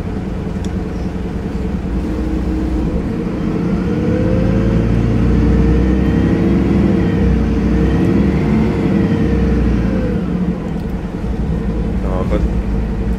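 A MAN NL223 city bus in Ljubljana with a 220 horsepower engine and three-speed Voith gearbox hums and whirs loudly from inside, the engine note rising and settling through a gear change.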